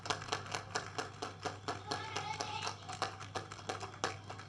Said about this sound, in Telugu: చప్పట్లు కొట్టండి అయ్యా బాబు